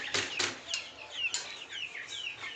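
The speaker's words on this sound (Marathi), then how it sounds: "हे आपले गावरान सातपुडाचे 50 चिक्स" Gavran Satpuda desi chicks from a batch of fifty give a dense flurry of high, quick peeps and chirps close by, overlapping continuously with some faint clucking-like calls underneath.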